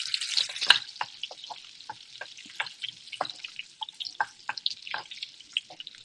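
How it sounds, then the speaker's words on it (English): Onions browning in oil in a pan for soft green beans, giving a steady close sizzle with scattered crackles and pops throughout, no talk. "So I added some more oil. Good. They are cooking. The onions are browning"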